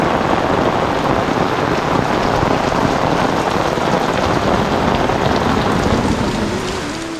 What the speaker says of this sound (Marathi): आम्ही मंदिरात पोहोचलो आणि मोठ्याने पाऊस आला.